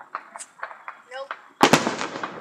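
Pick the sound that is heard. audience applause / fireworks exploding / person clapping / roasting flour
fireworks exploding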